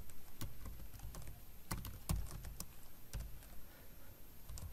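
Computer keyboard typing code, quiet irregular key clicks and taps up close, a steady scatter of strokes with a few heavier hits and no talk.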